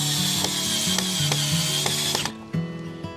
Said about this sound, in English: Using my American branded Harbor Freight Warrior drill from I don't know how many years ago.